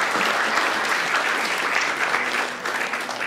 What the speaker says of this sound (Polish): Państwa proszę o brawa